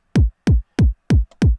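Five punchy kick drum hits distorted by a Camel Crusher saturation plugin land in an even rhythm, each a loud thump with a gritty, saturated attack and short decaying boom.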